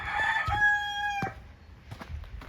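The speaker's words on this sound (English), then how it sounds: "Roosters are loud today." A rooster crows once, loud and close, a drawn-out harmonic call, followed by faint clucks and outdoor noise on a rural property in Pownal, Vermont.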